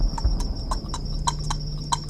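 Cartoon clip-clop of a ghost horse's hooves, a sharp rhythmic clatter of about eight evenly spaced knocks, close and distinct over a faint low hum.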